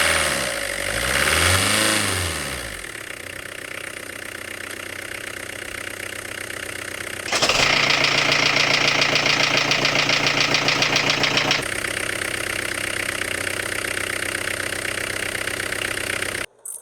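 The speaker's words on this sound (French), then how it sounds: "Et c'est parti pour le premier démarrage. Et le ralenti est instable. Mais après quelques coups de gaz," A Peugeot 306 engine on its first start after accident repairs revs up in throttle blips, then settles into a steady idle, loud and close with no talk over it.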